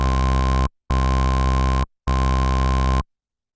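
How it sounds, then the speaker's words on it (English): A buzzy synth bass plays three sustained notes, each with a faint high sine-wave layer two octaves up ringing above it, separated by short gaps. "we'll set it up to +2 octaves, with a sine wave this time."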